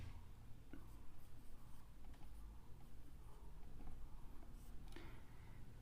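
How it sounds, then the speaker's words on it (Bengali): Pen or marker scratching across paper during a Class 9 geometry lesson, a soft continuous scritching with a few tapping strokes, close and steady, with no talk. "আমরা যেটা দেওয়া আছে সেটা লিখছি"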